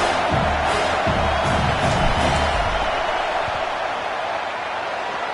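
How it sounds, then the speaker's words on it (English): Stadium crowd at an Oklahoma versus South Carolina college football game roars steadily as the field goal unit lines up on fourth down, a dense, loud, continuous wash of cheering that eases slightly toward the end. "This crowd trying to do its part to get inside the kicker's head."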